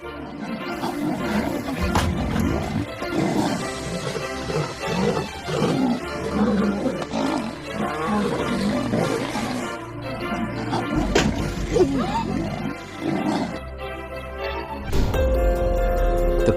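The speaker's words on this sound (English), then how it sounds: "a huge male lion crashing into a car" A huge male lion roars in the wild during a fight and crashes into a car, deep rumbling growls and roars swelling and fading over a noisy outdoor background, with a sharper thump partway through.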